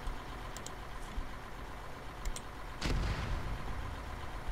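Artillery fire in a military video game, heard as a distant booming impact that rolls out under a steady engine-like rumble, with a couple of faint sharper cracks earlier, no talking.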